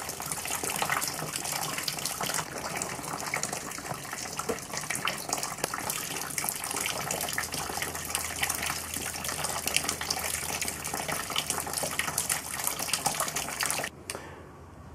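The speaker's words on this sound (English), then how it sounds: "we've completed emptying our liquid out of the brew kettle" Around 20 to 25 liters of liquid drain out of a brew kettle on a hillbilly vodka still, a steady close gushing pour that runs without a break and then stops abruptly near the end.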